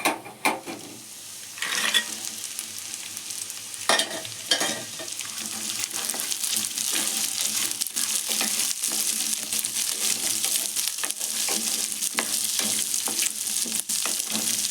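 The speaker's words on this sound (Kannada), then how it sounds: "ಅವರೆಕಾಳು ನಾನು ಒಗ್ಗರಣೆಯಲ್ಲೇ ಬೇಯಿಸ್ಬಿಟ್ಟು ಸ್ವಲ್ಪ ನೀರು ಹಾಕಿ ಬೇಯಿಸ್ತೀನಿ." Field beans (avarekalu) fry in a hot tempering for upma with a steady, loud sizzle that runs throughout, broken by repeated spoon scrapes and stirring clatters against the pan.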